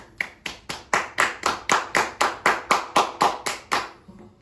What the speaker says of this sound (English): they've been offering the first responders and those people in the front lines of World War C to a nice round of applause. So let's give that right now.